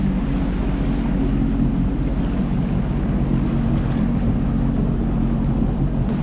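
A jet ski idles along the Weeki Wachee River at about two miles an hour, its engine giving a loud, steady low drone that carries on unbroken, mixed with wind rush over the microphone.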